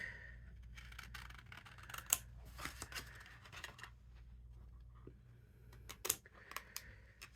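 Scissors snipping a card shape for a handmade greeting card, a series of quiet, crisp cuts in irregular bursts with faint rustling of the card between them, close and without speech.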